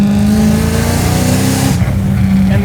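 A supercharged V8-swapped BMW E30 revs hard on a road, its loud, close engine roaring at sustained high revs before the throttle lifts and the note falls away.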